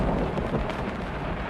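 Thunder rumbles through a stormy night with rain, a brief, deep, dense roll that stays fairly even and somewhat subdued for its short length, with no voice over it.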